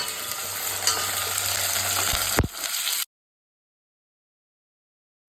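Red chillies sizzle in hot oil for a Tamil-style drumstick sambar, a steady broadband frying hiss with a brief stir clatter, lasting about three seconds before cutting to silence.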